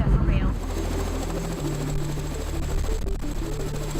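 A firefighting helicopter runs on the ground with a loud, steady rotor thrum and engine drone, continuous and close throughout, with a brief talking voice near the start.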